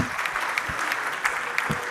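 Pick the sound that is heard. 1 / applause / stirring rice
applause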